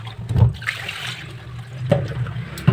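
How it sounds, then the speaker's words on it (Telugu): Water poured into a vessel to soak food during home cooking, a few close, loud gushes and trickles with short pauses between them and no talking. "ఇప్పుడు వాటర్ వేసేసుకుని అయితే కొంచెం నానబెడదాం."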